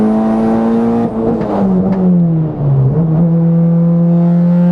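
A Volkswagen Jetta at Bonneville with a 7,000 RPM rev limiter, its engine droning loud and close as it climbs through the gears, with pitch dips at the shifts and steady high revs after.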